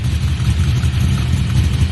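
A Chevy with a new custom all-aluminum exhaust idles with a small leak at the V-band clamp, a loud, low rumbling throb that stays steady and close, with no talking.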